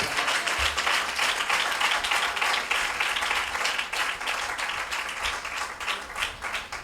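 A church congregation applauds loudly in praise, dense sustained clapping from many hands filling the space without pause.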